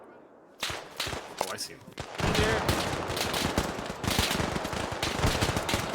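Sustained gunfire crackles through an Arma 3 firefight, with dense rapid shots and cracks starting after a brief pause and continuing steadily, while a voice speaks over the shooting.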